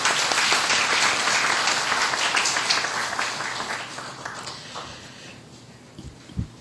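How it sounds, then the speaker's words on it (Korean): Church congregation at Sunday worship applauds in thanks, a broad sustained clapping that gradually thins and fades toward the end, with a couple of faint thumps after it dies down. "우리 다 같이 마음 모아 감사의 박수 드리겠습니다"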